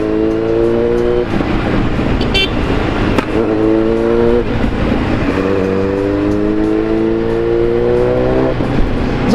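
Kawasaki Z900 motorcycle with an Akrapovic exhaust, revving repeatedly: loud, close engine note rising in pitch with each throttle blip and falling back between, over a steady idle rumble.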